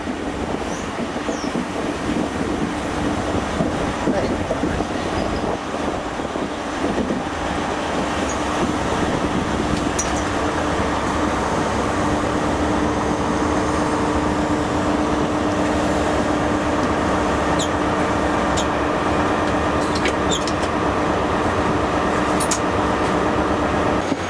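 An HST passenger train, power car 43070, runs between Cardiff and Swansea, a steady loud rumble of wheels and carriage noise with a faint sustained whine, heard from inside the train without talk.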